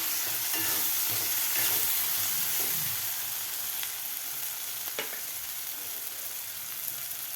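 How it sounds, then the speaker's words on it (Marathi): Turmeric, red chilli powder and coriander powder being stirred into hot oil in a pan make a dense, even hiss of frying with a few soft stirring scrapes, close and steady, with no voice. "व्यवस्थित मिक्स करून घ्यायचे आहेत आपल्याला हे मसाले"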